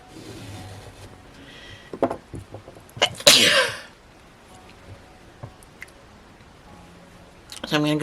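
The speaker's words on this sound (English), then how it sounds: "Sorry, I keep sneezing because of my allergies" One sharp, loud allergy sneeze bursts out close to the mic amid quiet crochet work, with soft clicks and handling noises around it and a voice starting to speak at the end.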